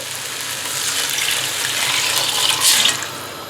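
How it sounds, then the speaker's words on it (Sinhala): Water pours steadily into a cooking pot of rice for biryani on a high flame, a close, continuous splashing rush that swells briefly near the end. "මම දැන් එකතු කරනවා මේකට වතුර"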